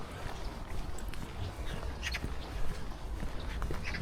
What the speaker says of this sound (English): A few little ducks.